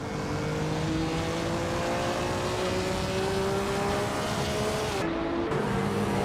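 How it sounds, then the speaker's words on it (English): A 1999 Nissan Primera P11 race car engine drones loudly and steadily at high revs, pitch climbing slowly with a brief gearshift dip near the end, no voices. "Caprice is driving a Nissan Primera P11 from 1999"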